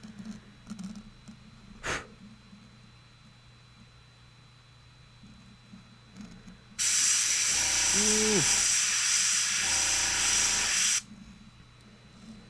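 An airbrush sprays paint onto Warhammer 40k Kill Team Tempestus Scions miniatures, a loud steady close hiss lasting about four seconds, preceded by a quiet room with a single knock, and a brief faint voice or squeak during the spray.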